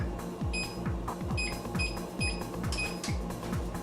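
An oven control panel beeps repeatedly while being set to 400 degrees, giving several short, clear electronic tones in a steady rhythm over a low kitchen hum.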